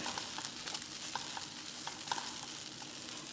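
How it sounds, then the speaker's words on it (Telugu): Small idlis frying in a tempering in a pan, a steady low sizzle with faint scattered stirring clicks throughout, no talk. "నేను ఇప్పుడు దీంట్లో చిన్న ఇడ్లీలు వేసానండి."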